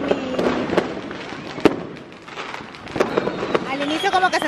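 Christmas fireworks in Peru crackle and bang in scattered sharp bursts, some close and loud, others distant, with voices of people talking in between.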